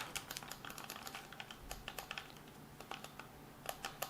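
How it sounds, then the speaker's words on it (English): PowerA licensed Xbox One controller bumper buttons clicked repeatedly by hand, a quick run of crisp, precise plastic clicks close to the mic with no talking. "towards the middle of the button and towards the outside edges, very clicky, very precise."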